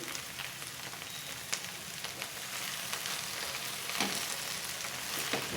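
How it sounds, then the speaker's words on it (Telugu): Okra pieces frying in a pan while being turned with a ladle, a soft steady sizzle with occasional scraping stirs, fairly quiet and close. "ఇలా గంటతో తిప్పుకుంటూ ఫ్రై చేసుకోవాలి బెండకాయ ముక్కలు"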